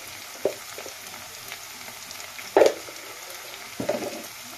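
Banana flower curry fries in a pan with Kashmiri chilli powder, turmeric and cumin, giving a soft low sizzle with three distinct spoon knocks or scrapes, the middle one loudest, and no talking.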